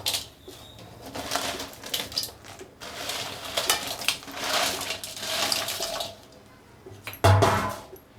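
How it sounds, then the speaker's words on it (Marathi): Crabs go into a pot of boiling crab curry, with clattering metal pot and spoon sounds, bubbling water and a sharp knock near the end. "आता भाजीला उकडी आलेली आहे आता खेकडे हे टाकू"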